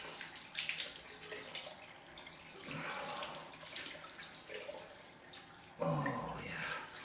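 Tap water running into a sink for a cold rinse after a straight-razor shave, faint and close, splashing unevenly as hands cup and break the stream, with no talk.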